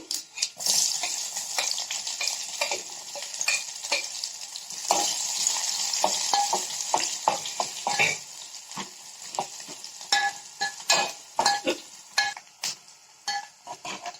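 Chopped onions and cumin sizzle and fry steadily in a pan, with a continuous crackling hiss broken by frequent sharp scrapes and clinks of a stirring spoon, loud and close.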